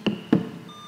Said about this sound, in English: just make sure your buzzer's working